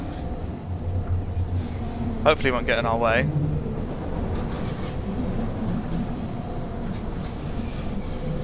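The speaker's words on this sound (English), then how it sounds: "Oh, there's another train coming." A train approaches along a rail line, with a steady low rumble and brief squealing wheel or brake tones, while a person talks over it nearby.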